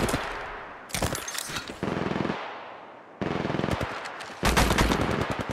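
Gunfire in the mobile video game Apex Legends Mobile comes as rapid automatic bursts, loud and close, in four or five separate volleys with short gaps between them and no talk over them.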